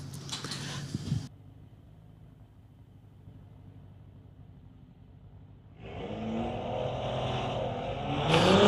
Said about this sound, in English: Warren Elder in the 2014 BMW from Surrey going against Ethan Amaral in his 2014 BMW.